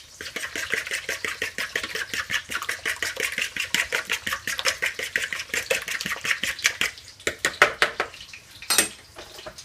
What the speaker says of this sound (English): I'm going to beat the eggs.